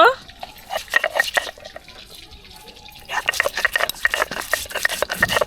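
Rhythmic rubbing and scraping strokes of ginger being ground on a stone, repeated steadily, with a voice speaking faintly in between.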